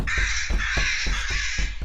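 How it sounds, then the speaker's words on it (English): Crows caw in a quick series of harsh, evenly spaced calls from an app sound effect, loud and close with no voices over them. "There are a bunch of crows at your door, apparently."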